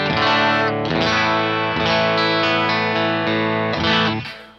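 An electric guitar on its bridge pickup rings out full, sustained chords through a Boss IR-200 amp simulator set to a Roland JC-120 model with light hall reverb, bright and shimmering with a chorus-like sheen, loud and alone before fading out.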